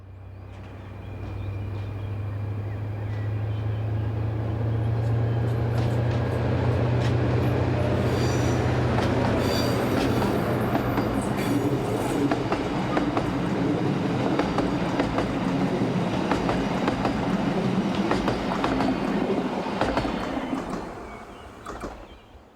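An Austrian Class 2016 diesel locomotive departs Graz with a passenger train: a heavily silenced but spirited engine roar with a steady low drone that builds and holds, rail and wheel noise rising alongside, then fading at the end.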